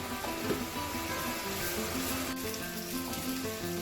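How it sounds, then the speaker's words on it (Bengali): Whole cumin seeds and cut potatoes fry in hot oil in a pan after prawns were fried, giving a steady close sizzle and crackle throughout with no talking. "ফোড়নে দিয়ে দিচ্ছি হচ্ছে কতগুলো গোটা জিরে, আর এরপরে দিয়ে দেবো হচ্ছে কেটে রাখা আলুটা"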